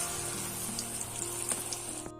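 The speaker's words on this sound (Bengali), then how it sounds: "বৌদি চপ ভাজাভাজি করছে" Chops frying in a pan, a steady close sizzle with faint crackles running continuously throughout, no voices.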